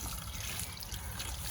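Water poured from a container onto freshly planted petunias in a spring garden, a steady close trickle and splash running continuously without pause.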